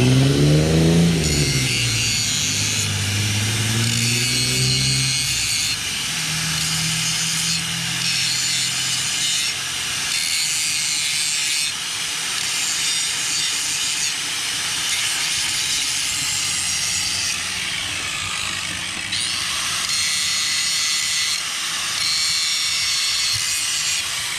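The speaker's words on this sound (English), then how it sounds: "Don't be grinding away at the weld, just clean the rust off." An angle grinder cleans rust off a Dana 60 axle near a weld, a continuous harsh high-pitched grinding whine with brief rises and dips as pressure shifts, running steadily and loud throughout.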